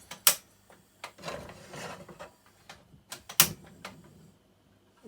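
A gas stove heat knob is turned to light a flame under a Ridge Monkey pan for cooking lasagna, giving two sharp close clicks with light mechanical rattling between them.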